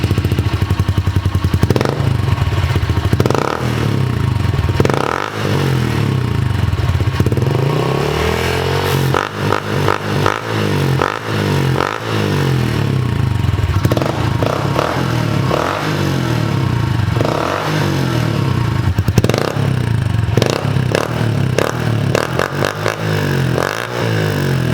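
A 2020 Honda CRF110 dirt bike fitted with an FMF Factory 4.1 titanium exhaust runs loud and close throughout, its engine repeatedly revving up and dropping back in rhythmic swells with some mechanical clatter, no voices over it.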